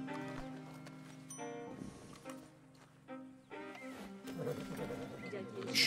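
A horse in the video game Red Dead Redemption 2 makes soft hoof clops and horse noises, heard under someone talking through most of the clip.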